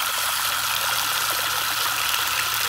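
Water runs steadily in summer, a loud continuous outdoor stream and trickle with an even, unbroken wash of hiss through the whole stretch and no voices over it.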